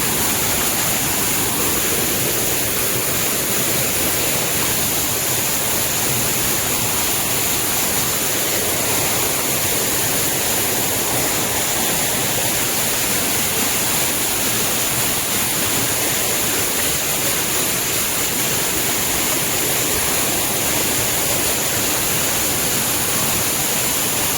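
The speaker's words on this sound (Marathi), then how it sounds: "बघू इकडे धबधबा आहे साईडला" Waterfall at Machi, a dense, unbroken roar of falling water filling the whole stretch at an even level, steady and close with no voices.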